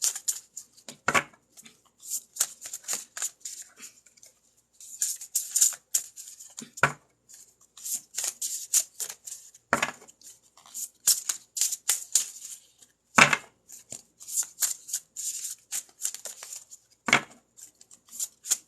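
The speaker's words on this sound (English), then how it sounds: "It's a brand new deck, so I guess I'm having to shuffle a ton." Brand-new tarot card deck being shuffled over and over, a steady run of crisp riffling and slapping bursts with brief pauses between, close and clear with no talking.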